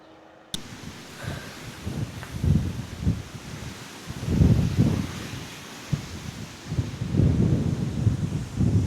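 Strong wind gusts roar across an open camper-van parking area beside a lagoon, buffeting the microphone in loud, uneven surges with rustling and no talking.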